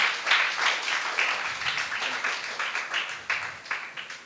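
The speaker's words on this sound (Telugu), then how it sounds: "గట్టిగా చప్పట్లతో ఆహ్వానిద్దాం" Church audience clapping to welcome the pastor at a youth Christmas program in a Lutheran church, a fairly quiet, uneven patter of a modest group of hands with distinct claps throughout.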